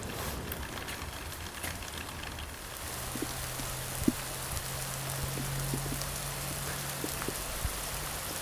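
Rain falls steadily outdoors, a continuous close hiss of drops with occasional louder pats, and a low engine hum joins partway through.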